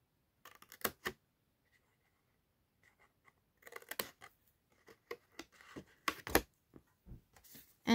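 Scissors cutting notches into patterned paper at a score line for an envelope flap in a papercraft project: quiet, close, crisp snips and rustles in scattered bursts separated by near-silence.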